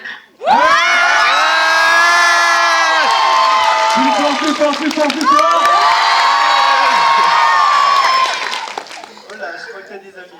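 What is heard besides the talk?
nightclub crowd cheering and shouting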